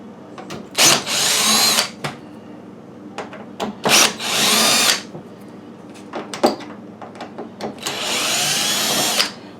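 Power drill backing screws out of the top of a GE UltraFresh washing machine, three loud close bursts of whirring between clicks and knocks of handling.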